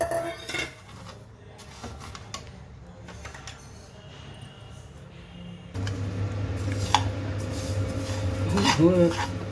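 Niger seeds are dry-roasted and stirred in a metal pan, with scattered scrapes and clinks of a utensil against the pan, up close, and a rustling sizzle that grows louder toward the end.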